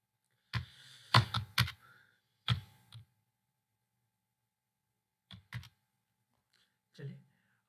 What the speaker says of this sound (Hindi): ऐसे ही रेंडमली टाइप कर रहे हैं हम